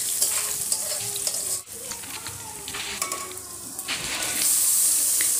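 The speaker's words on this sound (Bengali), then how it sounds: "পেঁয়াজ কুচিকে একটু ভেজে নেওয়ার পর আমি এর মধ্যে গোটা জিরা দিয়ে দিচ্ছি।" Chopped onion sizzles in hot oil with whole cumin and dried chilies for a minced-meat and potato tara pitha, a steady close crackle broken by scraping stirs and a short clatter near the middle.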